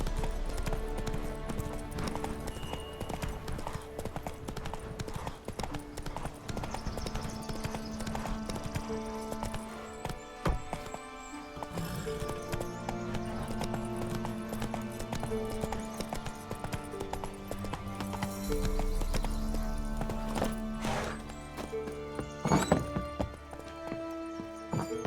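Geralt's horse Roach trots steadily in The Witcher 3, rhythmic hoof clip-clops running under a game music score throughout, with a brief snort or whinny.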